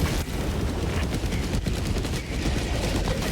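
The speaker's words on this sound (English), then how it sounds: "Firing orbital barrage. Clear the area." An orbital barrage strike in the video game Helldivers 2 fills the scene with a dense, continuous roar of rapid explosions and gunfire-like blasts, loud and sustained with no pauses.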